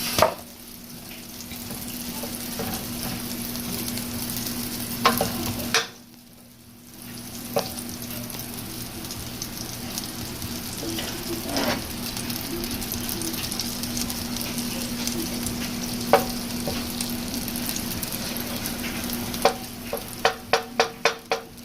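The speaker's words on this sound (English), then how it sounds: "I just added my butter to this pot. Let it melt off." Butter melting and sizzling in a cooking pot for jollof spaghetti gives a steady, close frying hiss with a low hum beneath, a brief drop near the middle, and sharp clicks and taps toward the end.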